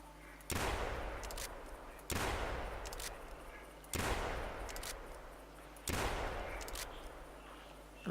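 Four loud shotgun blasts at regular intervals of about two seconds, each followed by a decaying echoing tail, fired at ducks in the hunting video game theHunter Classic.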